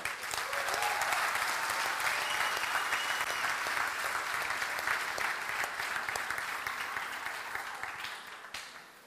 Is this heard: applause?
yes